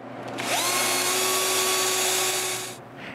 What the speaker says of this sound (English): I drill a small hole in the center of the lever.